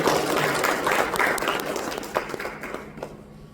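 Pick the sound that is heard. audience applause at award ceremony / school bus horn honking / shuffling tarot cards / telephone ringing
audience applause at award ceremony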